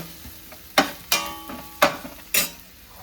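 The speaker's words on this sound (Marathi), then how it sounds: "याला आता कमी आचेवर भाजायचं आहे." Dal fry masala roasting in a pan on a low flame, with a few distinct scraping stirs of a spoon over a soft background sizzle, close and clear.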